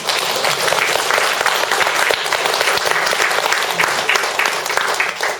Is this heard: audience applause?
yes